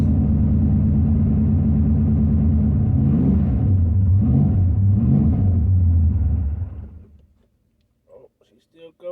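A cold carbureted car engine held at a fast idle around 1,500 rpm, a steady close low rumble with slight rises in pitch that cuts off near the end, followed by brief talking.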